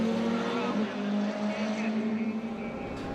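Two Norma prototype race cars duel on a circuit, their engines holding a strained, droning whine that dips and shifts pitch as they pass close by, loud and continuous for a few seconds.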